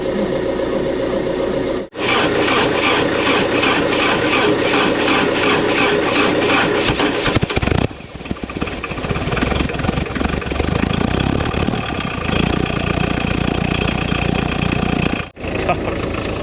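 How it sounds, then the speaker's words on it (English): A Case D tractor engine on a cold morning cranks with rapid rhythmic chugging for several seconds, then catches and runs on in a loud rough idle, with brief cuts and talk mixed in. "This thing always cranks cold. Cranks slow when it's cold,"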